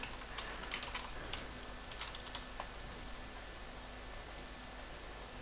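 Keystrokes on a computer keyboard as a folder path is typed into the Windows Explorer address bar, a quiet scatter of light clicks over a steady background hiss, no talk.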